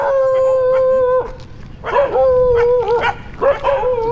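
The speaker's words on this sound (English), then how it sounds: "You can see these dogs behind me barking." Several street dogs in Thailand bark and howl nearby, with drawn-out, wavering cries in a few overlapping bursts.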